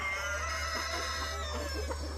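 Black chickens on a poultry farm cluck steadily in a flock, faint against a constant low hum, with possible rooster crowing blended in and no speech.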